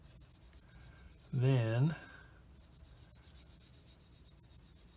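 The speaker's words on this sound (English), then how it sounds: "the stuff seems to sand pretty well, so there's that. So I'm going to get these sanded down" Plastic parts from a 1/72 Academy Ju 87G-1 Stuka model kit being sanded, a faint steady rubbing scratch that runs throughout, with a brief spoken word partway through.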